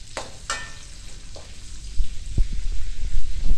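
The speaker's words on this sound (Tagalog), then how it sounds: "Ihahalo na natin itong dalawang malaking sibuyas." Garlic and two large onions sizzle in a pan for paksiw na pata, a soft steady fry broken by a few scraping stirs and low knocks of a utensil against the pan.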